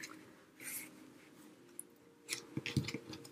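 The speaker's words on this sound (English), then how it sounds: "let me mark this for size, and I'll trim it down with my fun trimmer." A paper trimmer slices through paper to size, giving a few faint, quick snipping and sliding clicks in a quiet room, clustered near the end.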